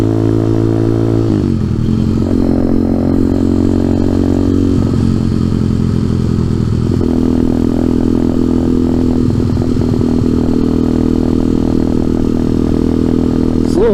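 A small motorcycle engine runs steadily while riding, a close, continuous mid-pitched drone that shifts gear and pitch a few times, with light clatter and no talk.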